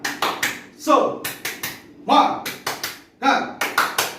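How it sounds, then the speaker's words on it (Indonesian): Sharp rhythmic claps from an Indonesian 'tepuk semangat' class chant in a seventh-grade music lesson, quick patterned groups of taps with pauses between, close and crisp. "Tepuk semangat"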